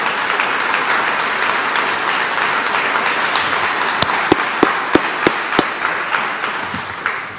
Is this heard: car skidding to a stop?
no